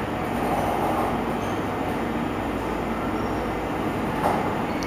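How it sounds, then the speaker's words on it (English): Loud, steady rumbling hum of a large 53-person Otis traction elevator in motion in a Dubai mall parking garage, with a constant mechanical drone and faint squeals, no voices. "This is a huge elevator, 53 persons capacity."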